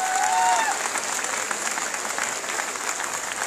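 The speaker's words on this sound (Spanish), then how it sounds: "Fuerte el aplauso para ustedes." Steady applause from a conference audience fills the whole stretch, dense and even, with a brief whistle-like tone near the start.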